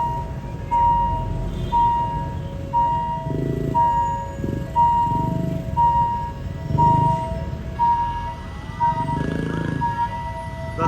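A special test train of KiHa 40/48 diesel railcars passes the Ratchaprarop railway crossing in Thailand. A crossing bell chimes in a steady repeating rhythm over the rumbling, swelling drone of the passing railcars.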